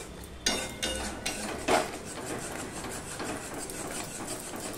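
Okra cooking in a yogurt curry in a pan, with a utensil scraping and clattering against the metal in several distinct knocks followed by steady stirring and a low sizzle, close by and with no talking.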